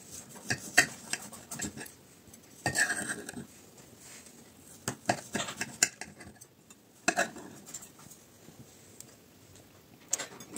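Knife and cutlery tapping against a plate while a curd pie topped with powdered sugar and pear is sliced, a series of close, short clinks and scrapes in bursts with quiet gaps.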